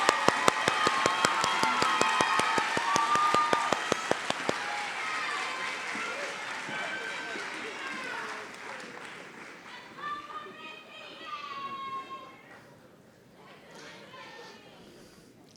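Round of applause for BSN graduates at a nursing college convocation: rhythmic unison clapping at first, then loose applause mixed with cheers and crowd voices, gradually fading as talking takes over.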